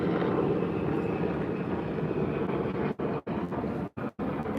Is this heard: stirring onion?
no